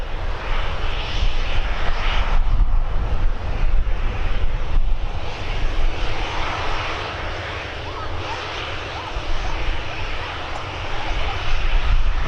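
An ATR turboprop airliner arriving at Birmingham Airport, its broad engine roar steady and fairly loud throughout with some wind buffeting on the microphone and no talk.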